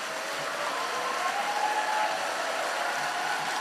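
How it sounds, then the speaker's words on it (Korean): A large audience at an evening church summer camp service applauds as the pastor comes up, a dense, sustained wash of clapping that stays even and loud throughout with no voices over it. "목사님 나올 때 큰 박수 부탁드리겠습니다."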